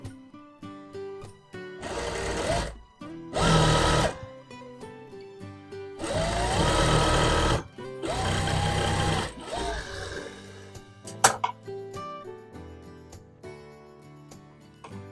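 Sewing machine running in several bursts while stitching a straight line along the lining of a long circular gown, loud and close, with short quiet pauses and faint clicks in between.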